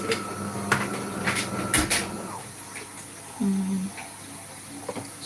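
Water running and splashing as the tank of a home coffee machine is refilled, with a clatter of the tank and plastic parts and a person talking nearby.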